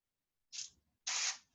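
Two short hissing bursts of cooking spray are sprayed onto aluminum foil in a baking pan, the second burst longer and louder, with near silence in between.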